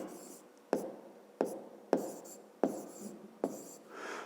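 Handwriting during a fifth-grade maths exercise: five distinct scratching pen strokes on paper, each a crisp attack that trails off, close and soft in a quiet room.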